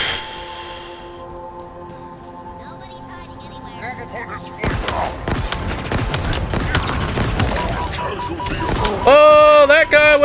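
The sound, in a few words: grenade explosion in video game Halo Infinite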